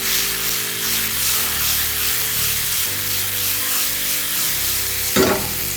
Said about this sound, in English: Cumin in hot oil.